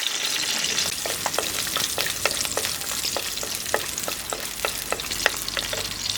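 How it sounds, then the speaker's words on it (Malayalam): Five or six garlic cloves sizzle steadily in hot oil in a pan for a Kerala coconut fish curry, a continuous close crackle punctuated by regular light clicks of stirring, with no voices. "എണ്ണ ചൂടായി വെളുത്തുള്ളി ഇട്ട് കൊടുക്കാം"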